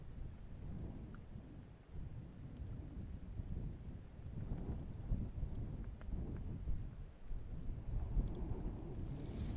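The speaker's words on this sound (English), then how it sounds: "We've got some freezing rain coming down." Freezing rain patters on a combat tent during 25-degree winter weather in North Carolina, a quiet, continuous low rumbling wash of drops and muffled thumps heard from inside, with no talk.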